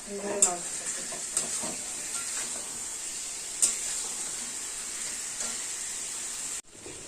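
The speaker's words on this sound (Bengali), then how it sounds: "মশলা কষানোর মধ্যেই মাংসগুলো এবার দিয়ে দেবো এবার কষাবো অনেক" Meat stirred into a spice masala in a hot pan sizzles and fries steadily, with a few sharp spatula scrapes standing out over the continuous hiss, close and fairly loud throughout.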